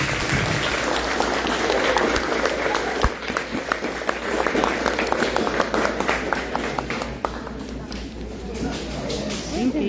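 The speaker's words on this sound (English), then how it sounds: "So I want to give a round of applause for this." Audience at an award ceremony breaks into sustained applause, a dense, steady wash of clapping that runs close and loud for about ten seconds with voices mixed in beneath.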